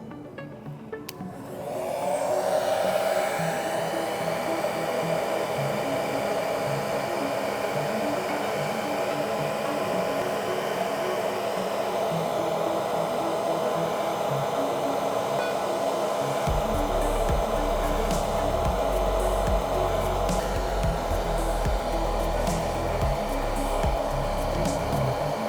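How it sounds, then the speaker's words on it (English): A hair dryer switches on and blows a steady, loud whirring stream of air over water to make waves, a rougher low rumble joining partway through, with no talking. "We're gonna turn on the hairdryer."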